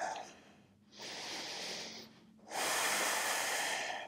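Close, soft breathing during a yoga pose: one slow exhale, then two long, airy breaths through the nose with brief pauses between, calm and even.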